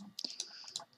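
A short burst of computer keyboard keystrokes as random numbers are typed in, a handful of quick, close clicks spread across about a second.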